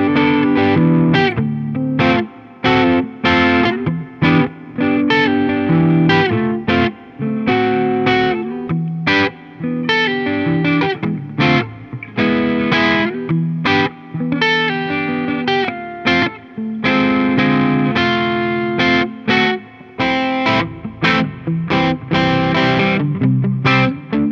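Electric guitar through a Klon overdrive pedal and a 1994 Crate GX600 amp, playing chords and riffs with a crunchy, slightly distorted tone, continuous and loud with brief gaps between phrases.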